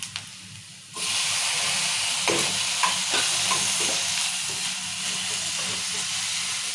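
Tomatoes with onions fry in oil in a pan for an amaranth-leaf tomato curry. A loud, continuous sizzle starts abruptly, with scattered scraping stir strokes throughout.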